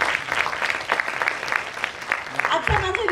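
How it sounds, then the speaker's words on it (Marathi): An audience at a New Year celebration event claps in a steady patter of applause, with a voice speaking over it near the end. "तर सगळ्यात पहिल्यांदा एकदा जोरात टाळी तुमच्यासाठी"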